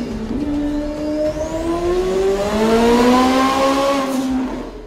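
A tuned sports car with a remapped engine and a stainless steel or titanium performance exhaust revs loudly nearby, its engine note climbing steadily in pitch over several seconds before easing off.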